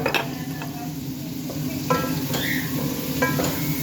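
Aromatics sautéed with seasoning powder in a pan, a loud continuous sizzle punctuated by several sharp scrapes and knocks of a utensil against the pan, near and without talk.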